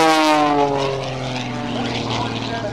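A Cirrus SR-22 single-engine propeller plane of over 300 horsepower runs loud and close at a Navy airshow, a steady droning roar with strong engine harmonics that slowly dip in pitch as it passes.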